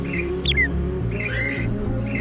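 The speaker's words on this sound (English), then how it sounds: "Oh, wow, there's a lot of birds." Birds chirping in a Gorilla Tag virtual forest, several short, bright, high tweets and trills repeating close by over a low steady background hum.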